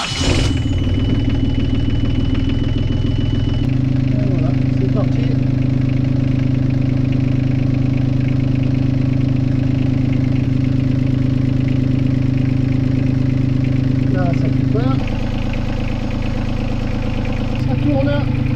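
A Yanmar 3YM30 marine diesel engine cranks and catches, then settles into a steady low idle rumble that runs throughout, with brief speech over it.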